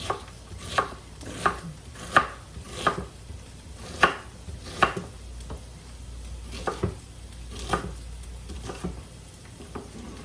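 Knife chopping vegetables on a cutting board for sweet potato soup, a dozen or so sharp, uneven chops in bursts, close and fairly loud, with faint sizzling from a pan in the background.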